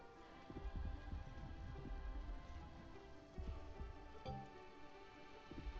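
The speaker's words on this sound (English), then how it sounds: "Okay, we're in another storm." Storm rain falls with a steady patter in the video game The Wandering Village, under low rumbling tones and a few ticks.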